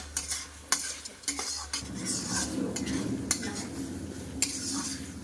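Spoon scraping and stirring fried spices in oil in a cooking pot while making potol (pointed gourd) with Gobindobhog, repeated clinks of utensil against metal over a steady close sizzle, no talk.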